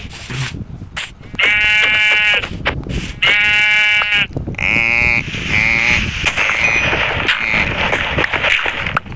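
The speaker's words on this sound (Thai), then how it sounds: "อันนี้แกะแม่งเยอะจัด" Sheep in the video game Minecraft let out several loud, close bleats in quick succession, some overlapping, over faint background game noise.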